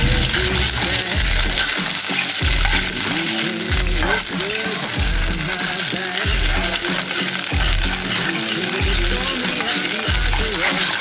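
Paneer chilli stirred in a hot pan, a steady loud sizzle with repeated scraping strokes of the spoon in a regular rhythm across the whole stretch.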